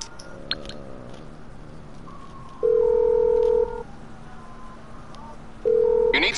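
A phone in the video game GTA 4 dials out with a few short key beeps, then two sustained ringing tones separated by a pause, with faint background noise under them.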